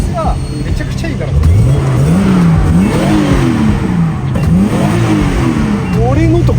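Nissan Skyline GT-R BNR32 with an HKS 2.8-litre engine, revved repeatedly in short rising and falling blips, loud and close, while a person talks over it.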